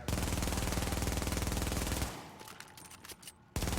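Automatic fire from a rifle in the video game The Division, a fast, loud, rhythmic burst for about two seconds, then mechanical reloading clicks and clatter before firing resumes abruptly.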